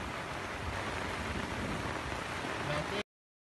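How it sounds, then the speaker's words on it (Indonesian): Heavy rain beating on a camping tent in the mountains, a dense, steady roar of drops that holds constant at close range and then cuts off abruptly. "Di luar pun hujan cukup deras."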